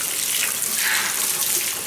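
Water runs steadily from a tap or hose while dogs are bathed, a continuous close hiss and splash with no talking.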